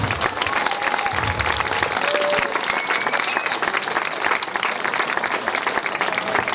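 Sustained applause from a crowd for girls who performed acrobatics on a small stage, a dense, even wash of clapping that holds steady the whole time.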